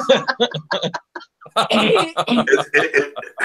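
A person speaks, then after a brief pause lets out a loud sneeze followed by chuckling and more talk, close to the microphone.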